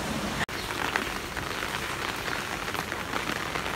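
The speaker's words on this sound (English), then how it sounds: "So it's raining" Rain falling steadily on surfaces outdoors, a dense continuous patter and hiss with scattered nearby drips, loud and unbroken apart from a momentary cut early on.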